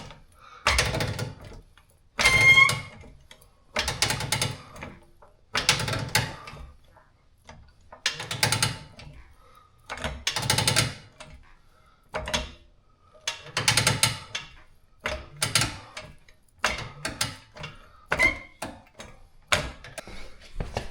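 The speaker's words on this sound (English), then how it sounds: "Sorry about the noise. Springs flying everywhere." Coil springs clank loudly in repeated bursts as a Jeep XJ suspension is cycled up and down toward full compression. Metallic rattles and thumps come in a steady, roughly even rhythm with brief quiet gaps between them.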